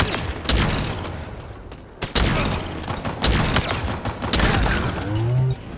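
Weapon fire from Halo Infinite arena gameplay against bots: loud, punchy shots and bursts come in irregular clusters, separated by brief quieter gaps and mechanical clatter.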